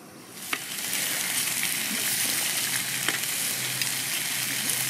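Sausages fry and sizzle in a non-stick pan at a fishing campsite, a steady close crackle with a few sharp pops and clinks. Nobody speaks.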